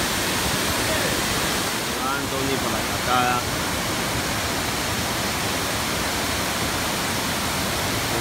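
Steady broadband rush of a river flowing early in the morning, loud and continuous throughout, with brief voices talking over it near the start.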